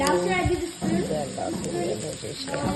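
Garlic sizzles in a hot pan in a home kitchen, a steady close hiss running under people talking the whole time.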